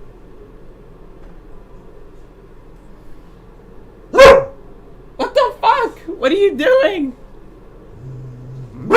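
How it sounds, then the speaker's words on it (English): A pet dog barks indoors, giving a loud single bark followed by a rapid burst of several barks close to the listener, with a person talking around them. "What are you barking at"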